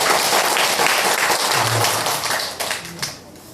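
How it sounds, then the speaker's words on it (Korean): A church congregation claps to welcome a visiting pastor, a warm round of applause from many people that thins out and fades toward the end. "박수로 환영해 주시면 감사하겠습니다."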